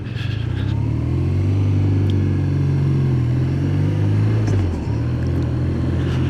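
A 2025 BMW R12 GS motorcycle riding over bumpy roads, its engine a steady, loud low drone with a brief dip in pitch near the end, wind rush underneath.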